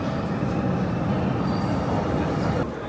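A loud, steady rumble of a train arriving at a station in Paris fills the space, with continuous rail and motor noise that eases slightly at the end.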